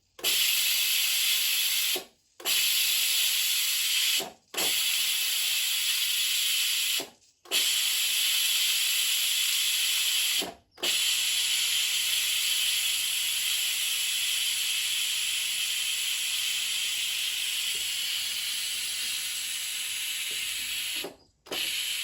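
A Cosori pressure cooker venting steam after cooking mushroom risotto, a loud continuous close hiss broken by several brief silent gaps, then a long unbroken stretch of steady hissing.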